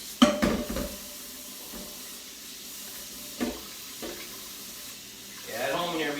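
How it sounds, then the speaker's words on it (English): Ground beef sizzling in a pot as it is stirred for moussaka, a soft steady fry hiss broken by a few scraping stirs and clanks, louder near the end. "just keep piling this ground beef inside of our pot"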